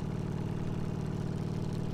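A Harley motorcycle with a loud aftermarket exhaust gives a steady, close, deep pulsing engine rumble.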